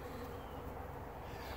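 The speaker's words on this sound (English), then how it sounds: "Got robber bees coming out" Honey bees, including robber bees, buzz around a dead-out beehive, a faint continuous drone with no break and no talking.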